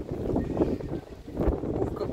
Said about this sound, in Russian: Ух, какой ветер просто неуютный